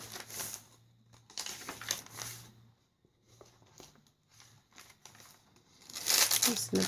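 A paper merchandise bag for a junk journal is handled, producing close, repeated crinkling and rustling bursts with quieter pauses between, ending in a louder flurry of crumpling.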